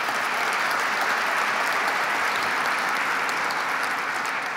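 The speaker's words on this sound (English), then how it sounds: "Let's give them a round of applause." An audience applauds the MTA team at an Association for a Better New York event, a steady, dense wash of clapping from many hands that holds at an even level throughout, with no voices over it.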